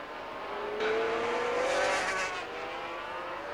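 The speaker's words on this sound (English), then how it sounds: "Similar bikes, V4 Hondas. Hard bikes to ride, very snappy when you open the throttle." A V4 Honda 500cc two-stroke Grand Prix motorcycle races at the 1987 Spanish Grand Prix, a high-pitched engine wail rising as it accelerates and passes, heard at moderate distance under a broadcast mix.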